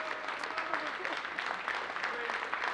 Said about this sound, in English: Give them a round of applause and our appreciation.